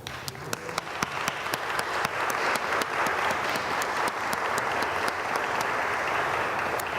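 Audience at an MLK50 commemoration applauding the planning committee as members stand, a dense sustained round of clapping with sharp individual claps on top, loud and close, with faint crowd murmur.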